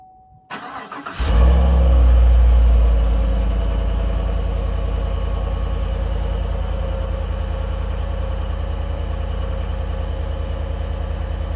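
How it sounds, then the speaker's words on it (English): A Chevrolet/GMC 1500 pickup truck with stock exhaust cold starts: a brief crank, then a loud deep burst as the engine catches, settling into a steady, rumbling idle. "This is going to be a cold start from the stock exhaust"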